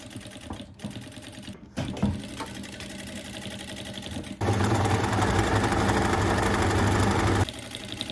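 A sewing machine stitches pieces of denim together for two-tone jeans, running in a steady loud burst after some quieter handling noise.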